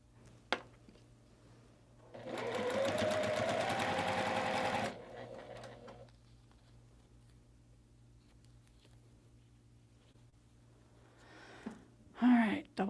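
A neglected home sewing machine, set up for quilting, runs in one steady burst of about three seconds between quieter moments, with a few clicks and handling noises around it.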